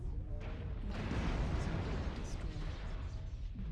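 A mech's ammunition explodes in the MechWarrior Online combat game, a dull, muffled blast and rumble under continuous battle noise, with bursts of impacts and a steady loud roar throughout.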